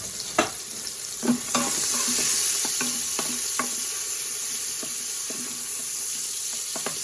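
Beef fat renders in a pan with a constant bright sizzle, while utensils stir and scrape in irregular knocks close by.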